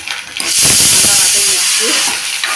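Chopped onions and curry leaves dropped into hot oil for a temple-style Madurai sambar, bursting into a loud, sustained hiss and crackle that settles into steady sizzling close by.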